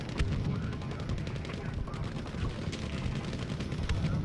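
MG34 machine gun fire in Battlefield V rattles in rapid, steady bursts, fairly quiet and slightly distant, with a player's voice faintly present over the gameplay.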